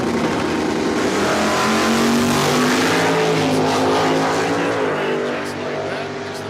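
Drag racing cars, an Oldsmobile Cutlass and a 1970 Nova, launch at a dragstrip with a loud sustained engine roar that holds steady, then eases slightly near the end.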